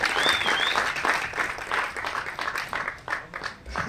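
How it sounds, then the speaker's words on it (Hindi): A crowd at the trailer launch of the Punjabi film Ardaas Sarbat De Bhale Di breaks into loud, sustained clapping that fills the room, tapering a little toward the end. "एक बार जोरदार तालियां हो जाए"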